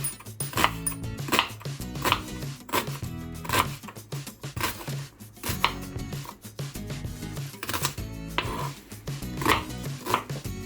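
A knife chops three washed onions finely on a board for paneer bhurji, sharp evenly spaced cuts landing about twice a second, close and crisp with no talking.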